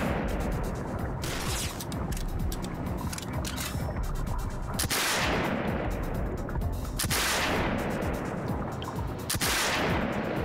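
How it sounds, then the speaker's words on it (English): Sniper rifle gunfire in a video game, heard as loud recurring sharp shots with long decaying tails at roughly two-second intervals over a constant dense background din. "Oh, this is a full-on sniper rifle."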